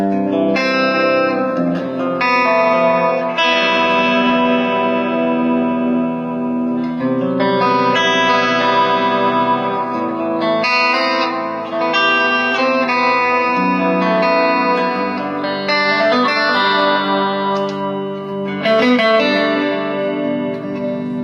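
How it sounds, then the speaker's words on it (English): Clean electric guitar played through an MP Custom Effects Modulus Echo delay pedal followed by reverb, steady chords and single notes trailing repeating echoes and a washy tail throughout, loud and alone with no talking. "the delay on this one is the Modulus delay, Modulus Echo by MP Custom Effects"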